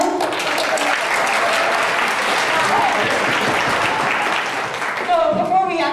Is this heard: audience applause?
yes